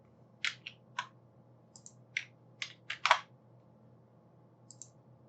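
Computer keys are pressed for a Ctrl+D shortcut and Enter, giving a handful of sharp, close clicks spaced irregularly over a quiet background, with no talking.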